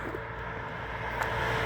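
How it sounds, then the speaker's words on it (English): Continuous highway traffic rushes past beside a roadside stretch near water, a dense, steady roar of cars at moderate distance with no voices. "You can hear a lot of cars walking behind me."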